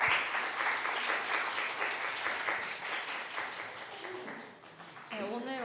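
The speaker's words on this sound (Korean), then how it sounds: "박수." Applause from a church youth congregation at a Sunday worship service welcoming new-member graduates, steady dense clapping throughout, easing slightly before a voice briefly enters near the end.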